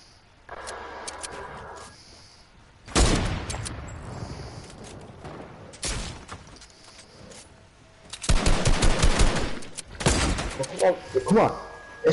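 Bursts of gunfire in the Fortnite video game, crackling volleys that come in clusters, loudest around the middle and end, with quieter in-game effects between them.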